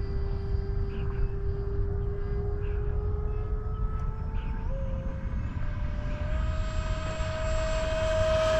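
An E-flite Viper 70mm electric ducted-fan RC jet with Castle gear flies overhead, giving a steady, loud rushing whine whose pitch rises in a few steps as the throttle changes, with no talk.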